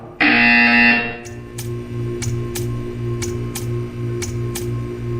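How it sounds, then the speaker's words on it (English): The Portal 2 video game buzzer gives a loud, harsh, steady tone for about a second, then cuts off, leaving a low electrical hum and a regular series of faint ticks. "When you hear the buzzer, stare at the art."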